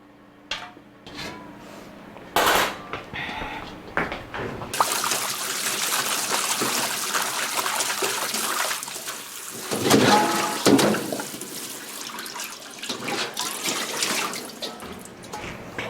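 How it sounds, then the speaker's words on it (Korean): Young eomnamu (prickly castor-oil tree) shoots rinsed by hand under cold running tap water in a kitchen sink, a steady trickle and splash with shifting swishes as the shoots are handled, fairly close and without talk. "찬물에다가 제가 한번 헹궈 갖고 올 거예요"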